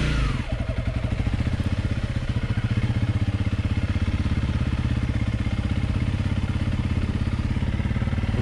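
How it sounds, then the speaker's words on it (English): A Honda CRF300L Rally motorcycle kickstarts and settles into a steady, close engine drone with rapid rhythmic pulsing and some mechanical clatter as it rides along, no voices present. "I'm going to kickstart the bike, turn her on. Here we go. Now, I'm just going to cruise around."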